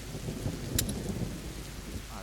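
Steady rain patters with low thunder rumbling beneath it in the game A Plague Tale: Innocence, a dense wet hiss throughout with a brief sharp crack partway through and no talk.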